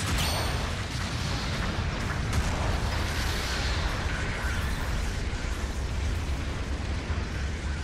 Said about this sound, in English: Enemy mobile suit destroyed!